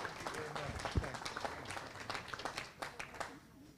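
A club meeting audience claps in a short burst, scattered quick hand claps from a modest crowd, fairly faint and tapering off, with a voice speaking near the start.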